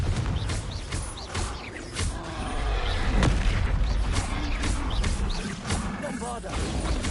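Fiery Confringo spell blasts during a Hogwarts Legacy battle, a string of booming explosive hits and crashes over a dense, loud mix of game effects.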